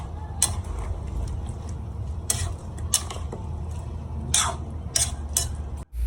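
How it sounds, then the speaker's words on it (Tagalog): A pot lid lifted and lechon paksiw stirred in the pot, scattered metallic clinks and scrapes over a low steady simmer rumble, with a few sharper knocks, no talk. "ating bubuksan, ating hahaluin ng kagaya niyan"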